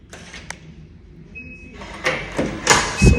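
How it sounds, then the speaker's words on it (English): A door being opened indoors after a day at the beach: a soft latch click and handle rattle, then louder scraping and thuds as it swings, near and moderately loud with faint background hum. "so I'm opening my door"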